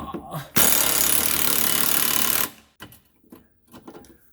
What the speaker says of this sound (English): It hasn't even been full 3 minutes and that compressor's running again.